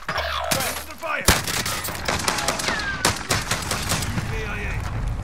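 Gunfire in Call of Duty: Modern Warfare, rapid bursts of automatic weapon shots and sharp cracks crowding together, loud and close amid game combat noise with voices underneath.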